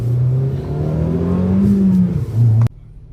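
A car engine pulls hard while driving, a loud close drone rising in pitch as it accelerates, then cutting off abruptly near the end.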